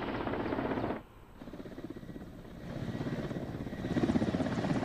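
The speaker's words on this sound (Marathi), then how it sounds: "छत्तीसगड आणि गडचिरोलीत अतिसंवेदनशील भागांमध्ये हेलिकॉप्टरने ईव्हीएम मशीन्स परत नेली गेली" A helicopter carries EVM machines back from Maoist-affected areas of Chhattisgarh and Gadchiroli after the 2019 Lok Sabha polling, its rotor making a steady throbbing drone that dips briefly, then swells louder and nearer.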